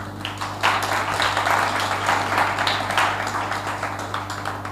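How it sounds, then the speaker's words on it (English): A crowd at a birthday gathering claps continuously, a dense and fairly loud spatter of hands that carries on without pause over a steady background hum. "You can't be clapping for yourselves like that."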